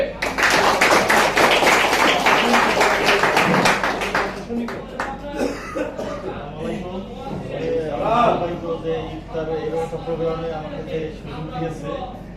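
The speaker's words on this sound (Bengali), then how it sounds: "স্যারের জন্য সর্বোচ্চ করতালি হবে" Audience applause for a speaker at an Iftar and prayer gathering held by a Tiens branch in Ramganj, a dense burst of many hands clapping for several seconds before fading under a voice addressing the room.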